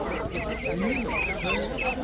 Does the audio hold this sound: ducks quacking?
yes